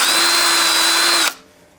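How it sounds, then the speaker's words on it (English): A power drill fitted with a 36 grit abrasive grinds on a hydraulic floor jack part, giving a loud steady high whine close by that cuts off abruptly after about a second and a quarter, leaving near silence. "hit it with the drill with this 36 grit on there."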